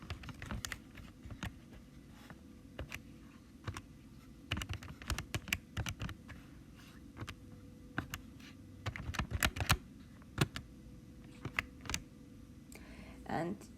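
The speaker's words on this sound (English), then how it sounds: "So just type it into your calculator." Number buttons on a calculator get pressed in quick, irregular clusters of crisp clicks, close by and fairly quiet over a faint steady hum.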